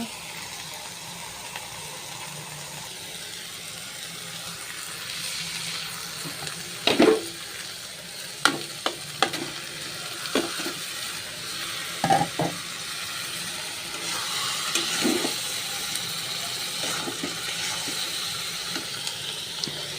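Fish goes into spiced oil for a tomato fish curry and is stirred, with a steady sizzling hiss and scattered scraping clacks of a spatula against the pan, close and moderately loud.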